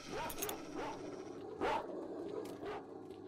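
Dogs in the game S.T.A.L.K.E.R.: Shadow of Chernobyl bark and yelp in several short bursts, fairly close, over a busy game soundscape, with a louder yelp near the middle.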